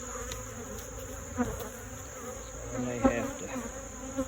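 Honey bees swarm around an opened hive during a split of an abandoned colony, a dense close buzzing with individual bees flying past the microphone, while someone speaks briefly.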